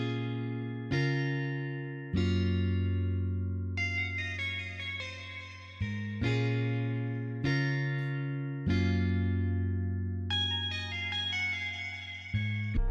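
Mellow guitar preset in FL Studio playing strummed chords with short melodic licks filling the gaps, clean and reverberant, with a steady rhythmic pulse and no voices.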